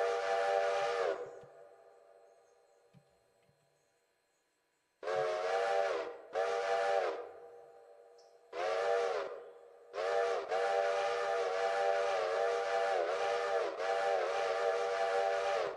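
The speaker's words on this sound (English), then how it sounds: "V plus move mouse up and down, quill whistle." A steam locomotive's quill whistle in the Railroader train game sounds in several loud blasts of varying length, a short one first, then a pause of near silence, then repeated toots and one long sustained wail.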